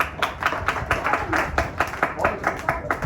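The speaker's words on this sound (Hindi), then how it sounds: "उफैरा के लिए तालियां हो जाए।" A classroom of students claps in a fairly rhythmic, close burst of hand claps, steady and moderately loud throughout.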